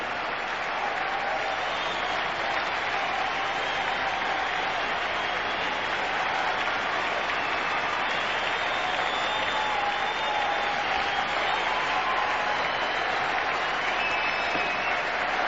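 A cricket crowd gives sustained, loud applause for cricketer Zoe Goss, a steady wash of clapping that holds without a break.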